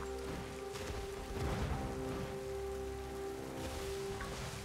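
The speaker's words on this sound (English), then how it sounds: "I know it's raining" Steady rain falls in the Pokemon Scarlet video game, a constant soft hiss of drops that runs through the whole stretch under sustained tonal game music, with no talking.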